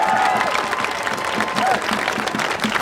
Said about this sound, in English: I need a big round of applause for that